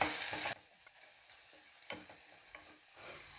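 Spices being stirred into hot oil in a pressure cooker for a potato rassa bhaji, with a soft sizzle and a few scraping strokes of a spoon against the metal, fairly quiet and with no one talking.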